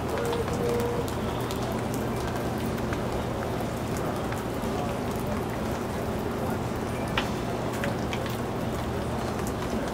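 Steady rain falls throughout, a dense hiss of drops pattering on surfaces, with a constant low hum underneath and an occasional faint voice.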